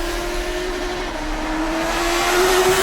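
A Honda CBR 650F inline-four motorcycle engine revs under way, a loud, steady high-pitched whine that climbs slowly in pitch over a rushing wind roar, close and alone.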